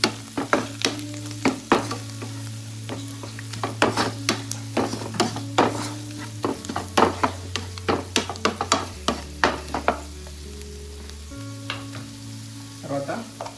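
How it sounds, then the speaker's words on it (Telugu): Ingredients with turmeric frying in a pan for Murgh Masalam, a low steady sizzle under repeated sharp scrapes and clanks of a spatula stirring against the metal. "మంచిగా ఫ్రై చేసుకోవాలి."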